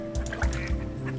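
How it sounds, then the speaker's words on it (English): Three short honking quacks from a duckling in the video game Teddy Floppy Ear - Kayaking, evenly spaced and close over a steady game background. "it's a duckling"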